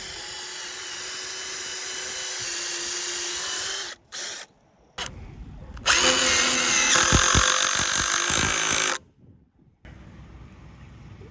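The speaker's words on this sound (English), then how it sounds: "what we're gonna do is countersink this about 1/2 inch" A power drill countersinks holes for 8-inch heavy-duty screws in large timber beams on a pavilion build, loud whining bursts broken by short pauses, close up and without speech.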